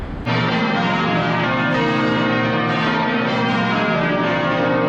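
Loud, resonant cathedral bells ring continuously, overlapping peals with long sustained tones filling the space, no voices present.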